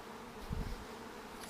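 Honeybees around a hive colony being split into several new colonies give a brief, steady low hum that swells for a moment near the middle.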